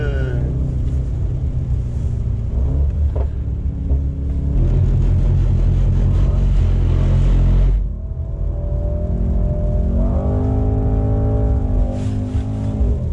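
A sports car sliding sideways through a drift, its engine rumbling loudly and close throughout, with revs rising and wavering toward the end.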